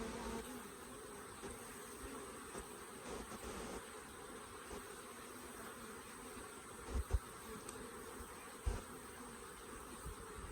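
Honey bees buzz from an open hive during an artificial swarm split with frames of brood. The dense, steady hum is close and continuous, with a couple of soft knocks.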